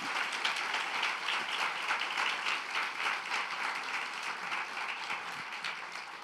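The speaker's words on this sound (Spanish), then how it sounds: "Dele un aplauso al Señor" A church congregation at a service led by Pastora Ayarí López applauds the Lord, a fairly quiet, even, sustained clapping with a gentle rhythmic pulse lasting about six seconds.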